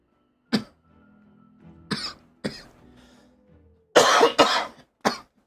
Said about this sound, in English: Seriously, again with my cough?